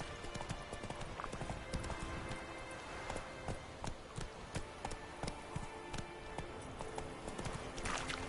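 Roach the horse's hooves pound in a quick, regular galloping rhythm in The Witcher 3, loud and continuous against the game's ambient background.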